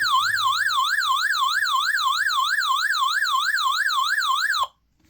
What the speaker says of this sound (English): I'll just show off his sirens